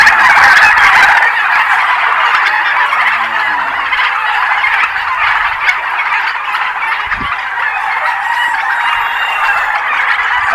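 Turkeys gobble steadily on a poultry farm, a loud continuous chorus of many birds close by with overlapping gobbles and honking calls, no voices.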